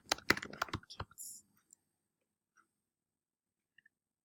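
Quick burst of typing on a computer keyboard, a dense cluster of close, crisp key clicks lasting about a second, then near silence with a few faint stray taps.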